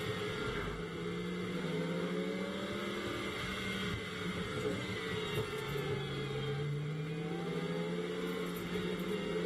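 Lamborghini Super Trofeo race cars circulating at low pace behind a safety car at Barcelona on a drying track, a continuous droning engine hum with gentle rises in pitch, steady and mid-distance, no voices.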